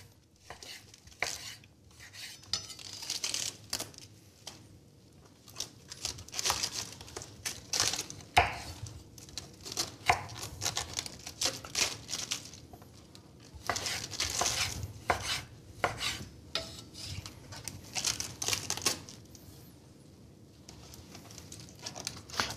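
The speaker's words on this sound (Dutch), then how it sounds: "Nu kun je eigenlijk gewoon erdoor snijden." Food being cut up in a home kitchen, with repeated knife chops and clatter of utensils and dishes in short irregular bursts at close range, no talk.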